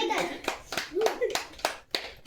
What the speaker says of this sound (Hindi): हाथ ताली मारो सब।